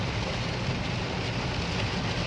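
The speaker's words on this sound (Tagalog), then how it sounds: "talagang sobrang lakas ng ulan" Heavy rain pours in a steady, dense hiss with a low rumble, loud and unbroken throughout, with no voices over it.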